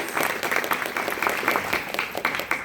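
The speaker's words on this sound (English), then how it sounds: "let's give one more round of applause for all of our judges today" An audience at a pageant claps steadily for the judges, a dense, moderately loud round of applause lasting a few seconds.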